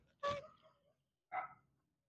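Two sharp dog barks, close by, spaced about a second apart with quiet in between.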